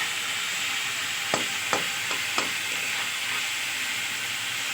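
Onion fries in a pan with a steady, even sizzle and hiss, and a few light clicks of a utensil cut through it.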